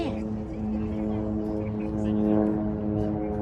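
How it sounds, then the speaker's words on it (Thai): An airplane passes overhead outdoors, a steady droning engine hum with layered tones that swells slightly toward the middle, heard under people talking nearby. "อุ้ยเครื่องบินมา ได้เห็นเครื่องบิน"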